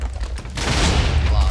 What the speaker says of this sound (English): the explosions are everywhere